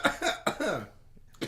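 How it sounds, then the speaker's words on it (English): Someone coughs close by in a quiet room, two or three quick harsh bursts followed by a pause and then another short cough. "Why you coughing through my stuff?"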